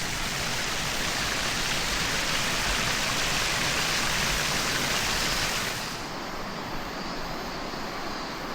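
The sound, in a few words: waterfall at Sandankyo gorge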